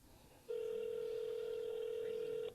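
A single long, steady telephone tone rings out on a call line for about two seconds after a quiet lead-in, flat and unbroken, then cuts off.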